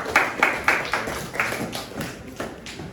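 Brief, sparse clapping from a small classroom group, a handful of distinct claps in loose rhythm, fairly quiet and alone.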